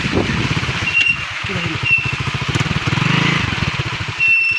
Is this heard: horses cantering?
no